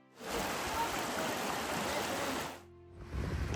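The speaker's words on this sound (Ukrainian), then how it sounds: "Такий тут водоспадик красивий." A small waterfall in a Carpathian mountain forest rushes steadily for a few seconds, then briefly fades before the splashing water returns, close by.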